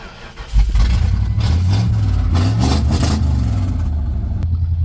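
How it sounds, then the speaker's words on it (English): The engine of a fuel-injected front-wheel-drive racecar cranks and then catches with a loud burst, running rough and revving unevenly for several seconds before settling, close and alone. "She just cranks like a carbureted unit."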